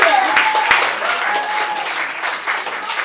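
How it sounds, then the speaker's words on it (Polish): Lively applause from an audience at a children's theatre show with a dragon puppet character, steady dense clapping throughout with some voices and cheering mixed in. "wielkie brawa dla niego"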